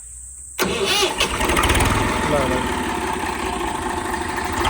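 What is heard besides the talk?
Swaraj 735 tractor engine starting and idling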